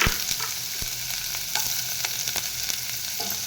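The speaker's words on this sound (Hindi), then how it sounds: "पियाज को मैं हल्का भाजीबा।" Onion frying in a pan for masala oats gives a steady, dense sizzle with small crackles and a few soft stirring clicks, close and continuous with no talking.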